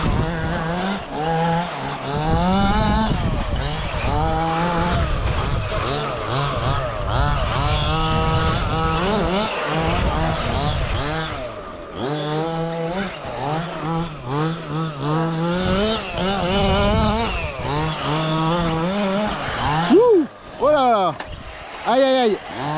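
A petrol-engined FG Marder 1/6-scale Cox Baja RC car runs on a circuit, its engine still breaking in and tuned rich, rising and falling in pitch through repeated loud revs and sweeps for over twenty seconds.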